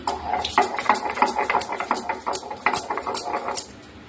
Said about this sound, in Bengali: বন্ধুরা, প্রথম পেঁয়াজটা আমি বেটে ফেলি।